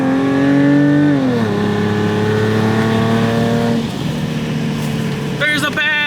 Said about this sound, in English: momentarily the pipes will scream, and then we will go back to normal